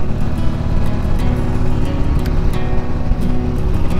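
Harley-Davidson Heritage motorcycle being ridden on the road, captured on a GoPro with a media mod: a loud continuous low engine rumble with wind rush, steady throughout, no talking.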